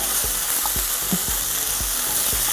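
Chicken masala with poppy seed and coriander paste frying in a pan for a drumstick chicken curry: a loud, steady sizzle broken by regular soft knocks of stirring, with no talking.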